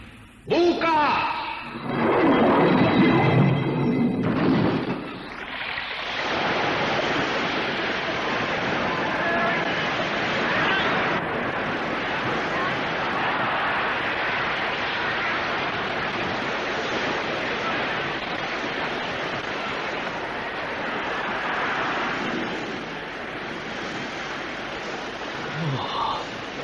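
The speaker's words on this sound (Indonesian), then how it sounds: "air sungai Cihaliwung masuk laksana air bah, seperti banjir besar yang dahsyat" River water from the Cihaliwung rushes through an opened sluice gate like a flood, a loud, continuous roaring wash that swells heavily at first and then settles into a steady broadband torrent.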